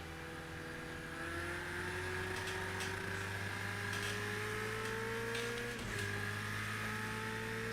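Race cars battle on track during the 24 Hours of Dubai endurance race, including a Clio scrapping with a touring car: a continuous loud engine drone slowly climbs in pitch, briefly dips at a gear change, then carries on.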